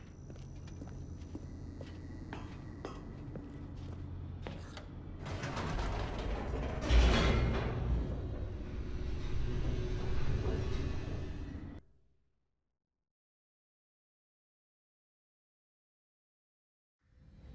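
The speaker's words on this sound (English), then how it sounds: "The elevator raced downward, plummeting towards an unknown fate." Elevator descending in The Stanley Parable: a loud mechanical rumble with creaks and ratcheting clanks swells for about twelve seconds, then cuts off abruptly into silence before a faint sound returns at the end.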